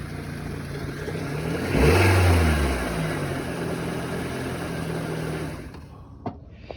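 Toyota VVTi 16-valve car engine running in gear at a towing auction, idling with a rev rising and then settling back to a steady hum, close and loud, ending in a few clicks and near silence.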